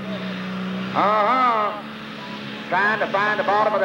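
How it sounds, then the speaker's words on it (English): Alcohol-powered pulling tractor revving hard at a 1995 Bluegrass Pulling Series event in Central City, Kentucky, its loud engine roar swelling in two surges beneath an announcer's continuous commentary. "Alcohol powered, cranking up some RPM on this machine."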